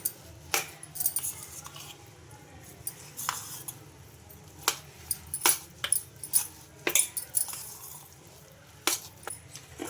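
A spoon clinks and scrapes against a metal bowl while mixing coconut idli batter, irregular sharp taps and rattles in bursts over a quiet background.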